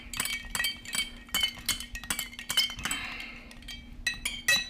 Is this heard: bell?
no